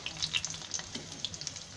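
Oil sizzles and crackles softly in a small kadai as besan-stuffed green chillies fry, with small sharp pops scattered over a steady frying hiss.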